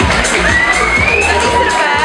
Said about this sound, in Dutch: Mag ik een daverend applaus voor Eilish Flash?